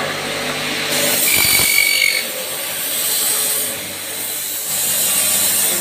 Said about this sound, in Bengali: বন্ধুরা দেখুন কিভাবে কাটিং হচ্ছে।